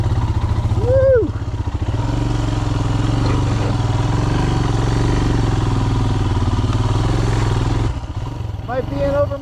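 A Royal Enfield Himalayan motorcycle working its way along a Montana singletrack trail. The engine drones steadily and close by, then eases off near the end, with clattering over the ground and brief whoops from the rider.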